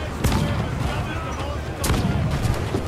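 Ship cannons firing in Assassin's Creed Black Flag, two heavy booming blasts about a second and a half apart over a dense rumbling battle din.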